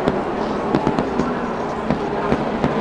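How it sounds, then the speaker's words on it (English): Fireworks burst at Darlington race track as a rapid string of sharp cracks and pops over a dense crowd-like roar, loud and continuous. "Fireworks in the air are the least of it."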